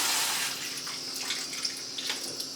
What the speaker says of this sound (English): Okay, we got warm water.